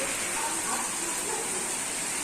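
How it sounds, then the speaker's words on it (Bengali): Steady rain grows heavier during a storm, a constant dense hiss of rainfall spread evenly across the whole stretch, with no talk over it. "এই দেখুন জানো বৃষ্টি আরও জাকিয়ে আসছে"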